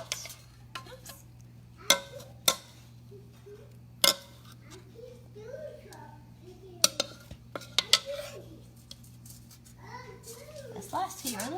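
Potatoes are scooped out of a pan with a metal utensil, sharp clinks and scrapes scattered irregularly at close range, while a person talks quietly.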